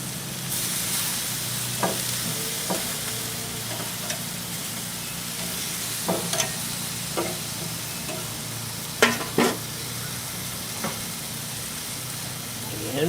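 Honey mustard chicken sizzles steadily on a grill while being basted, a continuous frying hiss with scattered soft clicks and taps from utensils.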